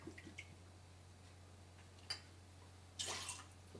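Apple cider vinegar poured into an Instant Pot with chili and apple juice for barbecue ribs, a faint brief splash and trickle that comes after a few soft drips.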